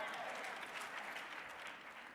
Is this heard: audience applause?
yes